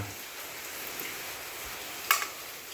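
Rain falls steadily outdoors, an even hiss of drops on surfaces throughout with one brief sharper tap near the end and no voices.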